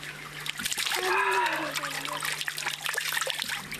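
Water trickles and splashes steadily, like a small spring stream, with a brief tonal sound in the middle and a constant low hum.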